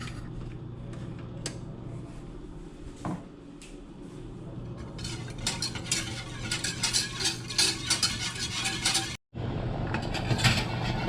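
A spoon stirring a lime sauce for lobster in a pot on the stove, with steady scraping and light clinking against the pot that grows busier and louder toward the end.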